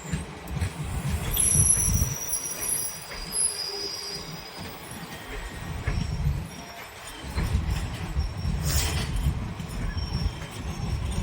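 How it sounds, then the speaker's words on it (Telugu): Steady low rumble of a passenger train rolling past at Bhatkal, loudest at the start and again near the end, with faint high squeals and no talking. "ట్రైన్ ట్రైన్ వచ్చింది ట్రైన్ చూస్తారా"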